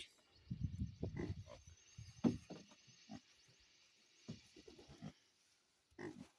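A pig grunts and snorts in short, uneven bursts close by on a homestead where ground is being levelled for its pen, with low rumbling grunts clustered at the start and scattered quieter ones after pauses.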